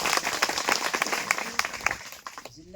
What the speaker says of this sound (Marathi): त्या प्रेमळ माणसासाठी एका जोरदार टाळ्या